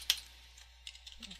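A few quick, soft keystrokes on a computer keyboard while entering text into a MySQL console, faint and close in a quiet room.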